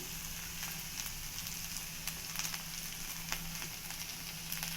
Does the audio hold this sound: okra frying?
yes